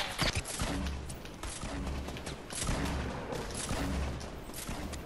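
Gunfire from a Fortnite 50v50 match rattles on steadily in repeated bursts, loud and dense throughout with no speech over it.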